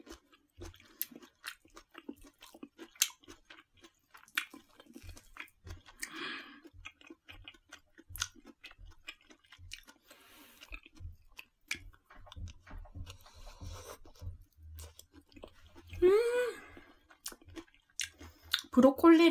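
Crunchy paprika (bell pepper) is chewed close up in repeated crisp bites and steady mastication over about twenty seconds, with a brief voice near the end.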